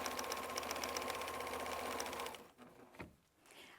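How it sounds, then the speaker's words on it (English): Sewing machine stitching a quarter-inch seam on quilt strips, a fast steady mechanical whir for over two seconds, then it stops and light handling noises follow, close and quiet, with no talk. "Still sewing my 1/4 inch seam allowance and removing the pins."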